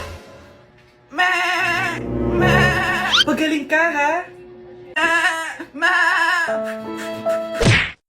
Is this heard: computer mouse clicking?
no